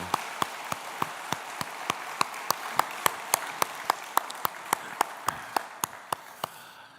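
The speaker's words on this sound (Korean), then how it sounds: "특별 박수를 한번 보내주겠습니다" A church congregation claps in a steady, even rhythm of sharp claps that carry on for several seconds at moderate loudness, with no talk over them.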